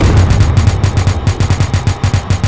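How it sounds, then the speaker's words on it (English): Repeated heavy shots from a submarine railgun in the video game Barotrauma, booming in a fast, steady series of loud low thuds that run nearly unbroken through the clip. "Shoot with the railgun."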